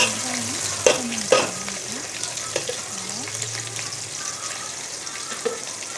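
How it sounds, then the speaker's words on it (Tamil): Onions fry in oil with cardamom, cinnamon and cloves for biryani, a constant close sizzle with a few sharp clinks of a spoon against the pan and a faint voice now and then. "ஆயில் ஊற்றி ரெண்டு ஏலக்காய், பட்டை, லவங்கம், பொரிஞ்ச பிறகு வெங்காயம் கொஞ்சம்"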